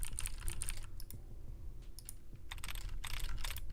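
Rapid clicky mechanical keyboard typing, close and fairly quiet, in irregular bursts of keystrokes with short pauses between them and no voices.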